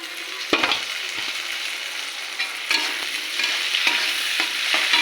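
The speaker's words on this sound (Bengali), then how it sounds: "টমেটোটা ভালো করে ভেজে নেবো" Chopped tomato and onion frying in hot oil, a bright, steady, close sizzle that runs throughout, broken by several crisp stirring scrapes of a spatula in the pan.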